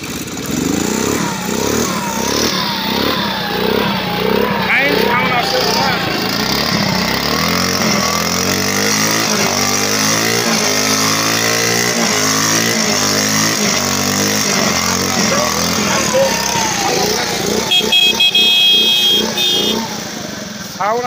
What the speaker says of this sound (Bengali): অবশ্যই আমি গাড়িটা কিন্তু স্টারতে দেখাবো, ভালো করে দেখবেন।